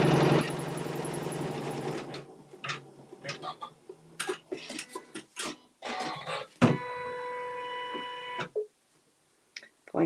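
A sewing machine stitches a fabric seam with a dense, steady mechanical whir at first, then stops, followed by scattered clicks and handling noises and a brief, higher-pitched run of the machine later on.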